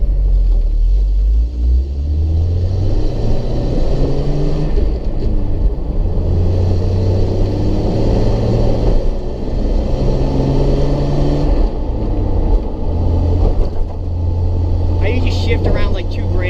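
Jeep Cherokee XJ engine revving and pulling while driving, a steady loud rumble with rising and falling engine tones throughout, running continuously from start to end.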